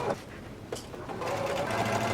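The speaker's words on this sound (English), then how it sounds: "now I'm going to sew my facing in place" A sewing machine stitches a facing in place on a 3/8-inch seam allowance, a steady close motor hum with a rapid needle rhythm that builds after a brief pause.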